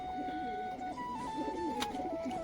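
Pigeons in a loft of Giribaz pigeons in Rajshahi coo steadily and softly, overlapping low warbling calls continuing throughout with a light background hum.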